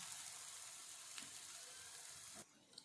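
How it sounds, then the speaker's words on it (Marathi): A wheat flour flatbread sizzles softly in a pan as its second side roasts, a faint, steady hiss close by that drops away near the end, with no voices. "आता इथे आपण दुसरी साईड छानपैकी ते भाजून घेणार आहोत"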